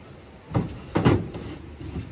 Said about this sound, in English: I gotta check all the drawers now